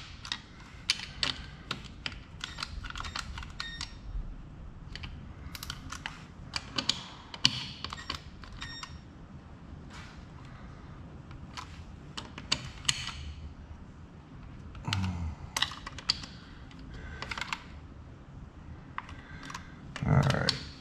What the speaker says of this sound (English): Now I'm going to go tighten them down the rest of them.